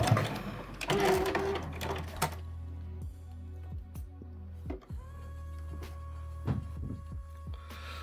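A domestic sewing machine stitching a seam with a backstitch on a fabric gift pouch, running in a steady close whirr with short bursts and pauses, motor tone rising and falling.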